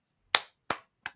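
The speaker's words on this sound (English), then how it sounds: "Clap, clap." Three separate hand claps, spaced slowly and evenly, each a sharp crisp crack with a short decay, standing alone in otherwise silent surroundings.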